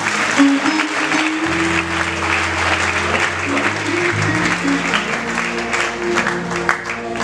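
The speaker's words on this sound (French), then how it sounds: "Acclamez le Saint-Esprit." A church congregation applauds steadily and warmly in dense, continuous clapping that fills the room. Organ or keyboard chords and a few voices sound beneath it.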